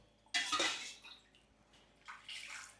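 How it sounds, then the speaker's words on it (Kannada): Water is poured from a small vessel into a cooking pot of ginger and garlic for chicken hot and sour soup. Two short pours splash and gurgle close by, separated by a brief pause, with no voices. "ನೀರು ತುಲೆ ನಮ್ಮ ಒಂಜಿ 2 ಚೊಂಬುದಾತ್ ನೀರು ಪಾಡೋಡು"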